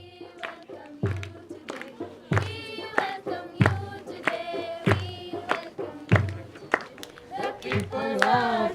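A small group claps at a hostel gathering during a women's motorcycle tour of Pakistan, loose uneven handclaps with thuds and voices mixed in, coming in irregular bursts rather than a steady beat.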